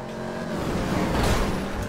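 A police car driven in a roleplay video game, its engine giving a steady, close roar that swells briefly midway and carries on without talk.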